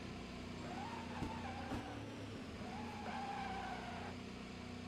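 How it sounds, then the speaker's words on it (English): An OSR IndyCar IR18 race car in speedway trim brakes into the pit lane at Pocono in the video game Automobilista, with tires squealing in drawn-out wavering skids over a steady engine drone. "Hard to get the car stopped in speedway trim."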